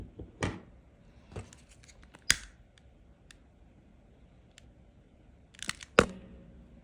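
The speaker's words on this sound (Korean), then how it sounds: "그렇게 하고 잘라주시고 이 와이어도 잘라주세요." Scissors snip through wire and cord on a small macramé snake, giving a handful of sharp, separate clicks and cuts with quiet gaps between them, close up and with no talking.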